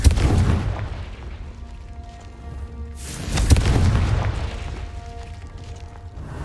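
A Confringo fire spell explodes in Hogwarts Legacy: two loud booming blasts about three seconds apart, each with a sharp onset and a rumbling decay, over low cave ambience and a faint musical hum.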